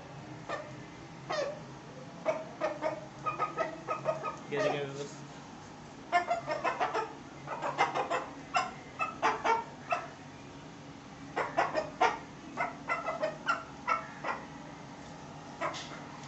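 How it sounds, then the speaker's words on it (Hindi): A rooster kept in a home poultry setup, giving repeated short clucks and calls near the microphone, with someone talking over much of it. "व्यूअर्स देख सकते हैं आप, ये कितना अच्छा मुर्गा है माशाल्लाह"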